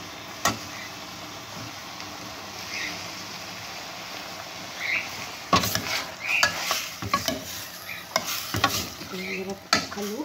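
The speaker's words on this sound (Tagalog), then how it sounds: "Ang hirap haluin. Ang liit ng kaldero." Pineapple chicken is stirred in a small pot: a soft simmering sizzle runs throughout while a spoon scrapes and clinks against the metal in uneven bursts, growing busier in the second half.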